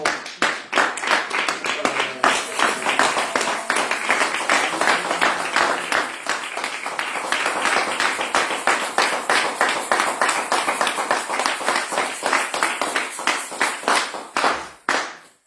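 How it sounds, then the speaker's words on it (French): A church congregation claps in steady rhythmic unison during a French-language evening service, loud and sustained for about fifteen seconds before stopping abruptly. "est-ce que nous pouvons exprimer la joie par des acclamations?"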